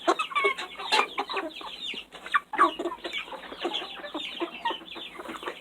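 Buff Orpington chickens cluck busily and continuously up close while being fed mealworms, a dense overlapping chatter of short calls from several birds.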